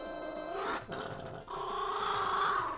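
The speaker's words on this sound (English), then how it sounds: "He thinks if he growls at stuff, it'll go away." A dog growls in the Final Fantasy V video game, a low rasping snarl held over two short bursts against a steady layer of game music.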